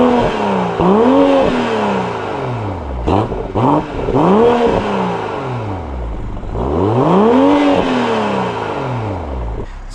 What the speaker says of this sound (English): Put the car into its Sports Plus mode, you can hear the valves open up straight away.